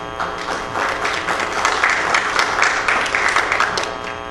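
A hall audience gives a strong round of applause for a speaker at a constitutional law session: dense, continuous clapping from many people, steady and fairly loud throughout with no talking over it.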